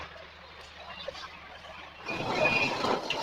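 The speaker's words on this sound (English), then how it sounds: "Now look how clean the subway cars are." A metro train moves through a huge subway station. A low, steady rumble swells suddenly about two seconds in and becomes a loud, broadband roar of the train passing close by.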